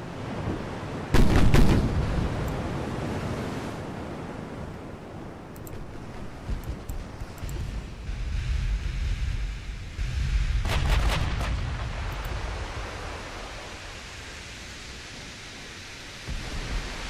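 Rapid gunfire and heavy explosive blasts from a military video game, with loud bursts near the start and again around the middle over a constant rumbling battle background.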